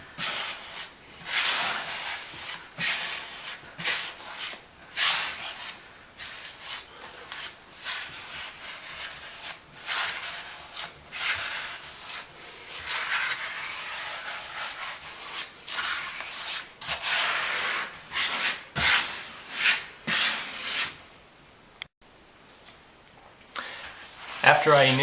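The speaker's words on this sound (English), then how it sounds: "I'll wipe the excess from the flats of the tiles and reapply it in the cracks." Grout being wiped across the flat faces of bathroom floor tiles and worked into the joints, a steady run of close, scratchy rubbing and scraping strokes that continues almost without pause, with only brief gaps.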